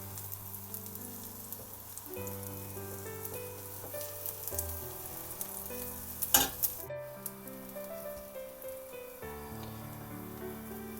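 Besan and grated mooli roti batter spread thin on a hot griddle over low heat sizzles and fries in a soft, continuous crackle, close and fairly quiet, with a few sharper spatters partway through and under a light musical backdrop.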